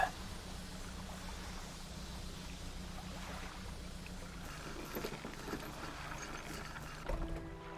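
A fishing boat in the video game Dredge chugs slowly on just one engine, a steady low droning hum under water wash, with a brief higher tone near the end.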